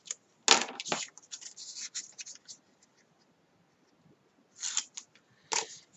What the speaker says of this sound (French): Et on coupe la languette, comme d'habitude, en biseau.